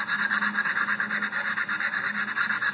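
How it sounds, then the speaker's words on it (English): Medium grit sandpaper rubbing over a MadCow Viper model rocket body tube in quick, even back-and-forth strokes, close and steady with a raspy texture, roughly a dozen or more passes and no talking. "So I'm just going to take some medium grit sandpaper here"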